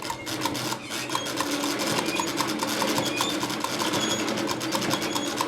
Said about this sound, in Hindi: इसको हम यहाँ से थोड़ा सा रिवर्स सिलाई करेंगे